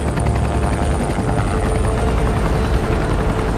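A helicopter flies in an action film, its loud, steady rotor chop and engine whine filling the whole stretch without any talking.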